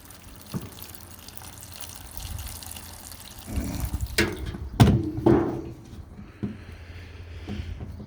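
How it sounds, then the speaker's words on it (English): Water poured into a bucket of shredded paper and food scraps like veggies and eggshells, quiet splashes and trickles with a few louder bursts of pouring and some clunks, no voices. "And then I'm going to give it a good drink of water."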